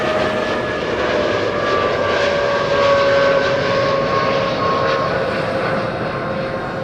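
A TUI airliner climbs away after a derated takeoff from runway 24 at Amsterdam Schiphol, its steady jet roar holding for several seconds with a faint whining engine tone, moderately loud and with no voices.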